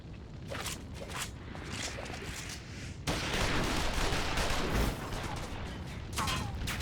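Gunfire in a Final Fantasy XIV: Stormblood cutscene: scattered sharp shots at first, then a louder, dense volley of overlapping bursts that keeps going to the end.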